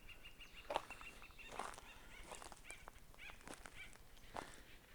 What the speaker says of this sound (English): Just listen to the acorn woodpeckers are just going crazy right now